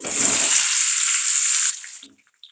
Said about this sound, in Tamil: இந்த ஆயில் ஹீட் ஆயிடுச்சு இதில் கட் பண்ணி வச்சுருக்க வெண்டைக்காவை சேர்க்குறேன்